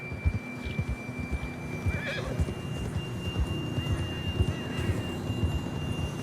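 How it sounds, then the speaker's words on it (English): A horse whinnies loudly a couple of times over steady hoofbeats and a low rumbling background, in the video game Red Dead Redemption 2. "John was riding that horse when we left Blackwater."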